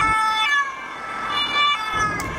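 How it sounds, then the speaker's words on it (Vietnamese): A police car siren wails steadily and fairly loud, its tone rising and falling slightly over a couple of seconds with no talking. "Xe cảnh sát."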